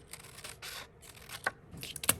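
Scissors cut paper in a series of short crisp snips and rustles, close and quiet, with brief pauses between strokes and a sharp closing click at the end.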